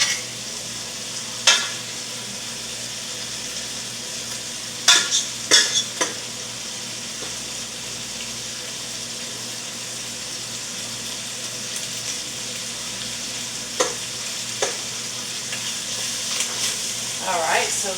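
Meat braising in melted butter in a pan gives a steady, close sizzling hiss, broken by a few sharp clicks of a utensil against the pan.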